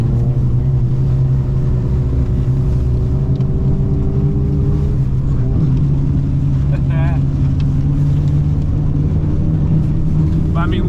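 A Subaru plows through very soft, deep snow high in the mountains, its engine droning loud and steady throughout while snow sprays, with a voice briefly heard in the middle.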